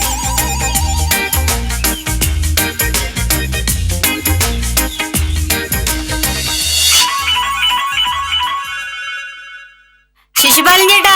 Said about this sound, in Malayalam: ഫോൺ വീട്ടിൽ നിന്നാ.